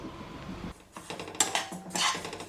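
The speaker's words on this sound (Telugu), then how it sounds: "ఇలా తిప్పుకుంటూ మనం ఫ్రై చేసుకోవాలి నువ్వుల్ని" Sesame seeds frying in a pan over a medium flame, stirred with light scraping and rattling, with crackling bursts that come and go, and no talking.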